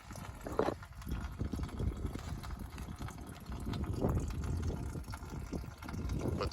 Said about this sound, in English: I'm gonna start unscrewing these hoses so that I can let out all this fluid.